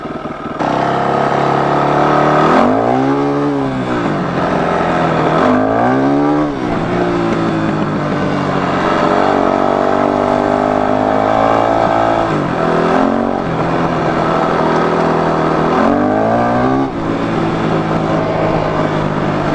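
A motorcycle engine revs up and down repeatedly as the throttle is opened without using the clutch, on a first ride of the bike, loud and close with rising and falling pitch sweeps.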